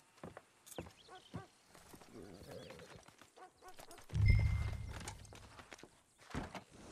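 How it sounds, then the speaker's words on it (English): Horse hooves clip-clop in the video game Red Dead Redemption 2, a scattered series of soft hoof falls amid game ambience, with a louder low rumble midway. "Get your horse and let's go."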